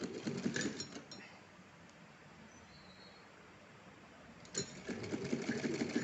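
A sewing machine runs in two bursts of rapid stitching through cotton cloth, one at the start and another near the end, with a quiet pause between them. The dress is a fancy outfit for a Laddu Gopal idol.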